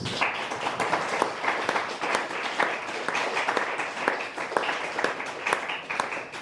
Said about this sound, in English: So I would just ask everybody to give him a special round of applause.